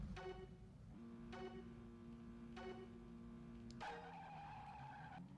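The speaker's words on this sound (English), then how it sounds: "Horrible sound of wheel spin" Shrill tire squeal from wheel spin in a Midas PS1 racing game, repeated in a few harmonic bursts over a steady engine drone, loud and continuous throughout.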